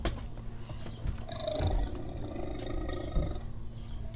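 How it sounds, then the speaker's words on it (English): Stomach growl rendered as a lion-like roar effect, a low rumbling growl that swells and fades over a few seconds with no speech. "was that your stomach growling?"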